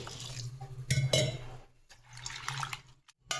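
Soaked poha (flattened rice) is washed in water, with close sloshing and splashing that swells and fades in bursts, followed by brief drips and pauses.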